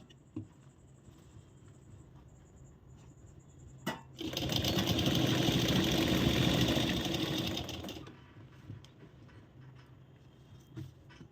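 A sewing machine runs steadily for about four seconds, stitching the strip along a princess-cut blouse's back neck. The whirring burst is loud and close, with quiet room sound before and after.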